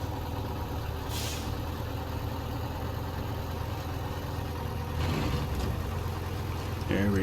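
A heavy truck in SnowRunner, Scandinavia map, revving hard as its wheels spin, a loud continuous engine drone with brief hissing bursts and a person speaking over it.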